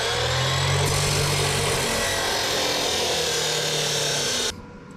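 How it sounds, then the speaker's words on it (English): A chop saw cuts exhaust pipe stock in a shop while an old Plymouth Fury is being worked on, a loud continuous abrasive roar that holds for over four seconds before winding down at the end. "Thought it might be a smart idea to break out the chop saw on some of this stuff."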